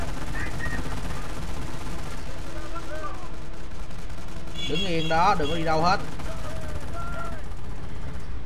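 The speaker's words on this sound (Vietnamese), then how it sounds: "các bạn nghe cái pháo, cái tiếng pháo của nổ, pháo nó nổ rất lực luôn" Battlefield gunfire and artillery in the World War II strategy game Company of Heroes during a custom battle, a steady dense roar of shots and blasts running throughout, with someone speaking over the din.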